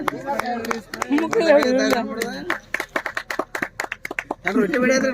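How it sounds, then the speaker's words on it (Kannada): An audience claps in a burst of hand claps at a folk Dollu song performance, mixed with loud voices and shouting throughout, ending with a stretch of sharp, separate claps. "ಕೈ ಇದ್ದವ್ರ ಚಪ್ಪಾಳೆ ಹೇಳ್ರಿಲ್ಲ."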